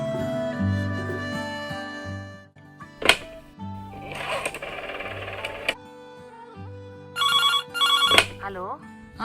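Telephone ringing during a call, heard as repeated bursts of bright electronic ringing with a ringtone melody, mixed with people talking and household noise.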